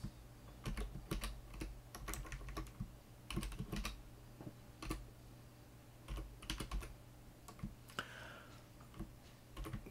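Keys of a computer keyboard clatter in irregular bursts of quick taps with short pauses between them, close and fairly quiet over a low steady hum.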